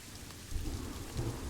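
Rain in the zoo-building video game Planet Zoo, a soft steady hiss of falling rain with low rumbling swells beneath, fairly quiet and without voices.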